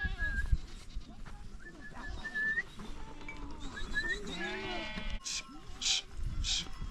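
Goats at a Tibetan nomad camp bleat repeatedly over several seconds, some calls close and loud and others further off, mixed with whistling and people talking nearby.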